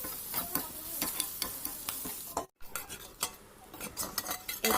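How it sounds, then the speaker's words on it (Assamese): Soybean chunks tossed with a little turmeric fry in a pan, bright sizzling broken by repeated scraping strokes of a spatula and metallic utensil knocks, close and fairly quiet, with one brief dropout midway. "ৰঙচুৱা পৰি যোৱালৈকে ভাজি থাকিম।"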